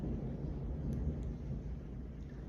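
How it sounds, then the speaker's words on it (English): A distant thunder rumble on a fall evening, low and steady for a few seconds with faint rain-like hiss, heard from indoors with no talking. "I just heard thunder, so it's gonna be a really good night."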